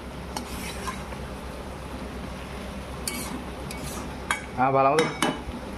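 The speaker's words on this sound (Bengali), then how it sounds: "তো এই দেখুন আমি এখানে রান্না করছি মাছের ঝোল" A pot of Bengali fish curry simmers on the stove, with faint stirring scrapes and light utensil clinks over a low steady background; a voice cuts in briefly near the end.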